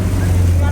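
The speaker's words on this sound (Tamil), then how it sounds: "பாருங்க எப்படி படகுகள் வந்து போகுதுன்னு சொல்லி" Racing motorboats speed past at sea off Point Pedro in Jaffna during a boat race, their steady engine drone low and continuous with wind buffeting the microphone.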